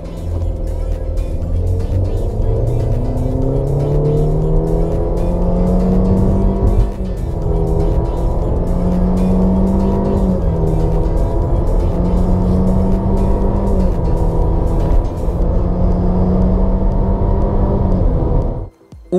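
A Honda CR-V SUV accelerating on the road, its engine note a loud, close, steady hum that climbs and levels in pitch under load for most of the run before cutting off abruptly at the end.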